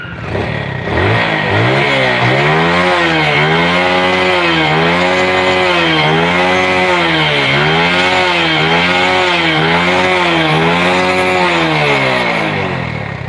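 A Yamaha Jupiter Z motorcycle engine idles steadily up close, its low rumble pulsing in a regular rhythm with slight rises and falls in revs, no talking.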